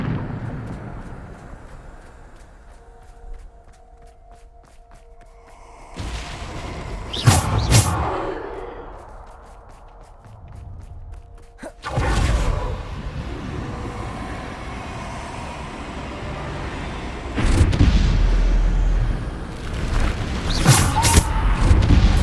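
The Bombarda spell in Hogwarts Legacy erupts in loud explosive booms. A big blast lands at about 7 s, a roaring burst follows near 12 s, and another heavy impact hits around 17.5 s, with rumbling game ambience in between.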